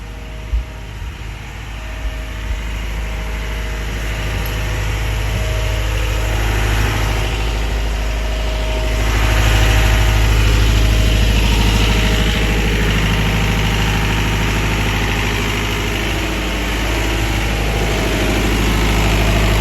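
Caterpillar C18 diesel engine idling steadily, a loud, close, continuous low rumble with mechanical vibration that swells slightly midway, with no talk over it.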